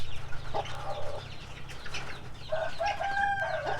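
Native chickens and small chicks cluck and cheep at close range on a rural farm, with short peeping bursts rising over a low background rumble.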